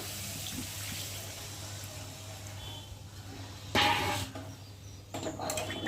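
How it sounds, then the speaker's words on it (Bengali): Hot water pours into a pot of chicken curry, a soft gurgling stream in a quiet kitchen with a low steady hum, then brief louder splashes near the end. "আর এখন জলটাকে ঢেলে দেব"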